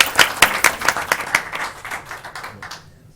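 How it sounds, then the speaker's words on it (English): A round of applause at a county school board meeting. Fairly close, distinct claps from a modest group start strong and taper off to silence within a few seconds. "So we'll give them a round of applause."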